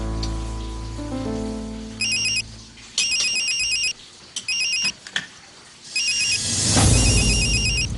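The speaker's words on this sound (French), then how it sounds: "si tu ne comptes pas répondre, éteins ton téléphone, ok?" A telephone rings in bursts of bright electronic trills, several repeated rings with short gaps, loud and close over a soft rainy background hiss.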